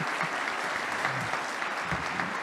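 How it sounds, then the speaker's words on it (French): Brief burst of steady audience applause at a French defence space strategy conference, many hands clapping together at moderate distance with no talk over it. "je voudrais peut-être qu'on applaudisse nos participants"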